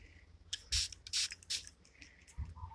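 Several short hissing spray bursts applied to a pet duck, close up, with quiet pauses between them and a soft low thump near the end.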